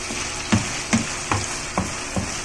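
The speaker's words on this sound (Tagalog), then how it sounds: "lutuin pa natin ng mga ilang minuto yung giniling na beef" Ground beef frying in a pan, a steady close sizzle broken by five evenly spaced scraping stirs, with no voices.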